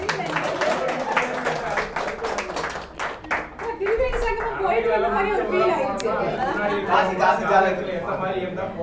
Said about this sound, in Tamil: அவருக்கு ஒரு ஒரு கைதட்டல் போடுங்க